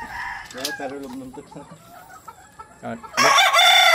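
A gamefowl rooster crows loudly near the end after scattered clucks and faint chatter, the crow strong and close.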